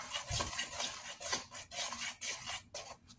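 Crêpe batter stirred briskly in a bowl to break up lumps, making close, rhythmic scraping and clinking strokes of a utensil, one after another with brief gaps.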